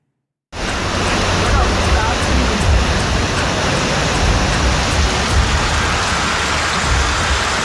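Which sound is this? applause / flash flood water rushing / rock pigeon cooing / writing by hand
flash flood water rushing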